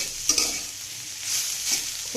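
Kalai greens with beans are stirred in a pan, two brief bursts of scraping against a constant soft sizzle, close and without talking.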